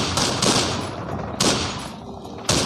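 Gunfire in the Call of Courage video game: dense broadband bursts erupt three times in quick succession, loud and close, with a rushing background between volleys.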